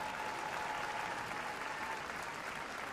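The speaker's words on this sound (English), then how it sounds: "please give them a big round of applause" A crowd applauds at the Crufts 2024 small/medium agility championship, a dense, steady wash of clapping that holds at even loudness throughout, with no pauses.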